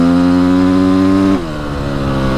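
A Honda CR125R two-stroke motocross bike held against its rev limiter, giving a loud, close, sustained buzzing engine whine that then drops abruptly in pitch as the throttle is released.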